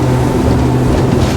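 Schaefer V33 motorboat turning at speed on choppy water, with a loud, continuous engine roar mixed with hull slap and wind rush, steady throughout and no voices.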